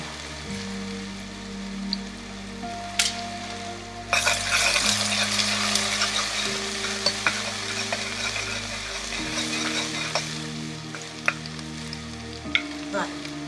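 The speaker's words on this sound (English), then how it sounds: "the oil is very hot. We're just gonna add the pepper, the garlic, and the onion to the pot." Pepper, garlic and onion hit very hot oil in a pot with a sudden loud sizzle that keeps crackling and hissing steadily, with occasional stirring clatter, close up.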